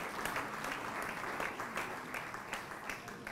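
An audience claps steadily at a Nigerian youth-in-agriculture event, a sustained round of applause from a sizable crowd.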